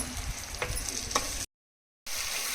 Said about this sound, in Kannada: ಈ ಥರ ಎಣ್ಣೆಯಲ್ಲಿ ಚೆನ್ನಾಗಿ ಕೈ ಆಡಿಸಿ ಹಸಿ ವಾಸನೆ ಹೋಗೋವರೆಗೂ ಇದನ್ನು ಫ್ರೈ ಮಾಡ್ಕೊತಾ ಇದ್ದೀನಿ